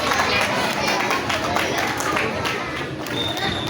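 Applause for students from grades 4 and 5 at an evening prize-giving ceremony, steady dense clapping from a crowd filling the whole stretch at a constant loud level.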